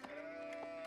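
Sheep bleat in Age of Empires IV, a short soft game bleat heard faintly over steady in-game music tones.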